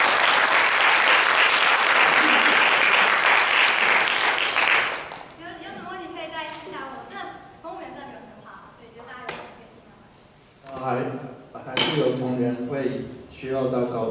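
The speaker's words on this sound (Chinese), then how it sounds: "我们掌声谢谢他。" An audience at a company-hosted club lecture applauds after a talk, with dense, steady clapping for about five seconds that then breaks off into people talking and scattered noise.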